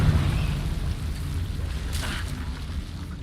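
A Confringo spell explosion in the video game Hogwarts Legacy, a rumbling blast with a crackling burst midway, heavy low-end boom fading into noisy debris, moderately loud and alone.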